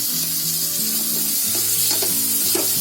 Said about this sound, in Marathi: आपलं बटर टाकलाय, त्याच्यामध्ये कांदा टाकते.